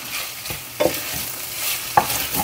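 UnMeat ground meat substitute sautés in oil in a pan, a continuous sizzle broken by two sharper utensil scrapes, close and brief, with no one talking.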